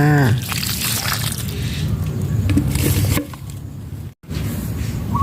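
Liquid is poured at the base of a chili plant onto an ant nest, making a close splashing, trickling gush. It runs continuously, then cuts off briefly before resuming.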